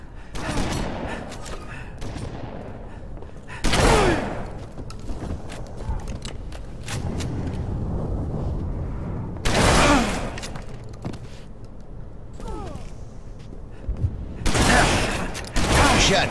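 Heavy shotgun blasts ring out in Halo, several loud close booms spaced seconds apart over a steady background of game noise, with an announcer-like voice calling out now and then.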